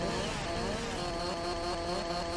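A Farming Simulator 22 chainsaw, a modded and strengthened version, drones steadily and loudly with no break, a dense buzzing whine that holds for the whole stretch.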